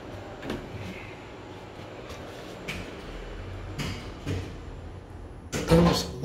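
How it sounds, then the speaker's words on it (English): Otis elevator relays in a hotel clack sharply and intermittently, a series of separate loud clicks over a quiet mechanical hum, ending in a heavier clunk. "Those loud relays, man."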